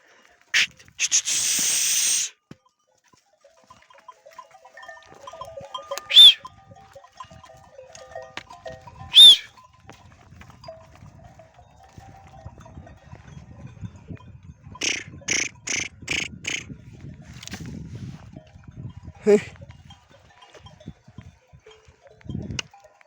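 Lamb and goats bleating on a farm, with a long loud call at the start, then scattered single bleats and a quick run of four or five short calls, amid faint rustling and movement.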